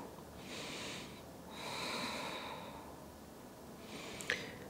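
Slow, steady breathing during a morning yoga stretch in a seated twist: three soft, airy breaths, close and quiet, each lasting about a second, with brief pauses between them.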